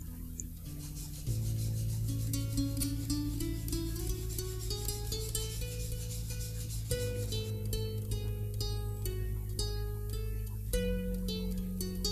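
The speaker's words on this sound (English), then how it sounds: "And now I actually start sharpening the blade." A tipped hand plane blade is rubbed back and forth on a sharpening stone lubricated with lamp oil, giving quiet, steady rasping strokes in close continuous rhythm with no talking.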